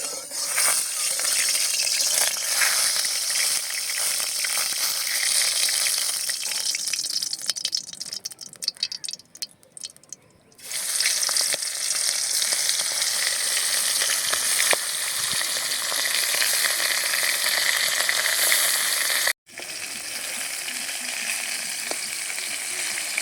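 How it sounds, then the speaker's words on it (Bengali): Pangas fish pieces rubbed with salt and turmeric frying in hot oil in a wok, a loud, dense, close sizzle that drops off briefly twice before surging back, with faint rattling. "এবারে কড়ার তেলটা একটু নেড়ে চেড়ে মাছগুলো ভাজতে দিয়ে দেবো"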